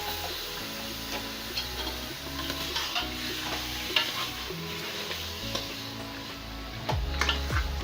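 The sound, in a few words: mutton frying and being stirred for mutton karahi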